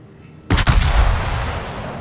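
Heavy naval guns of the battleship Cristoforo Colombo firing in World of Warships, a single loud, booming salvo that hits suddenly and then rolls into a long, rumbling decay.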